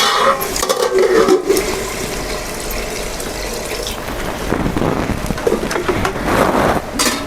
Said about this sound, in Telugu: ఇప్పుడు నీళ్ళు వేసుకుందాం తగినన్ని